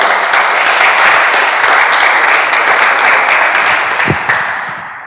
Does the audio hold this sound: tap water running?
no